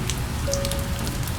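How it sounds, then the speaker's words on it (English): Warm, steady rain falling in a Japanese bamboo forest, a soft continuous patter of drops on wet leaves and ground, close and even throughout with a faint tonal hum running beneath. "The rain falls in warm, steady threads, not sharp, not cold as summer rain"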